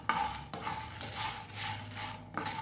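Six red chillies dry roast in a pan without oil, giving a steady scraping stir with light metallic clinks at the start and end, close and fairly quiet.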